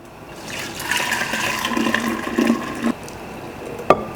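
Watermelon juice pours steadily for a few seconds with a gurgling, splashing tone, then stops, followed by a brief clink near the end.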